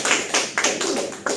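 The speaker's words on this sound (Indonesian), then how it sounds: "Bisa kita beri tepuk tangan terlebih dahulu." A class claps together after a group presentation, a short burst of scattered, uneven hand claps in a room.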